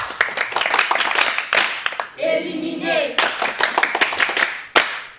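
A studio audience claps hard in a French talk show after a contestant is eliminated, bursts of loud, close clapping broken by a short sung or musical tone and a brief spoken word.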